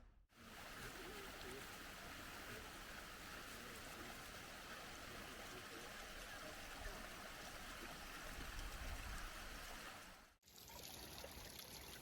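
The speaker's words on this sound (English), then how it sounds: "I saw this stream and this source right here" A small stream flows beside a hiking trail, a steady close trickling rush that fills the scene, breaking off near the end as a voice begins speaking.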